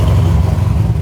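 A 1000 wheel-horsepower Corvette engine revs hard and loud up close, a dense, steady low roar that holds for about a second with no voices over it.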